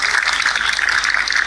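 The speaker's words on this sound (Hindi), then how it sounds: "वेरी गुड, ताली बजाएं इनके लिए" Audience clapping at a motivational talk, a short dense burst of applause from a crowd, steady and fairly loud throughout.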